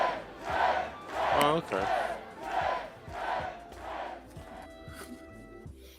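A crowd chants in rhythmic swells, rising and falling about once a second, loud and steady. A stretch of cheering and horn-like tones follows, and a voice speaks briefly over it.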